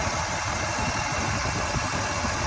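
A freshly rebuilt 350 V8 in an El Camino idles steadily and smoothly, a continuous low rumble close by with no voices over it.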